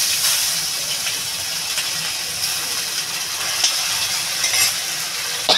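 Ginger dropped into hot oil tempered with whole cumin and dried red chillies, giving a loud continuous hissing sizzle with a few faint spoon clicks, close and with no talk.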